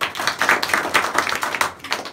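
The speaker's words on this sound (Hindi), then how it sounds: "ताली बजाओ उनके लिए।" Students at an inter college gathering clap together in a close, fairly loud burst of individual hand claps over about two seconds.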